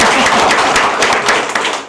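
Clapping from an audience at a local candidates' joint debate, dense and steady for a couple of seconds, fairly close and loud with no talk over it.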